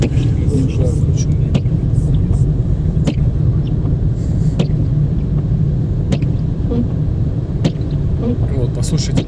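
A taxi car driving on the road, heard from inside as a steady, loud low rumble of engine and tyres, with occasional faint clicks and ticks over the constant drone.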